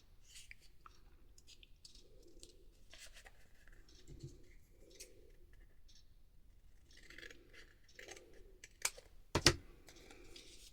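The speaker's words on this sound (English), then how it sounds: "this I then cut in half again" Scissors cutting paper in half while making journaling cards, a run of soft crisp snips and rustles up close, ending in a couple of louder sharp snaps, with no talking.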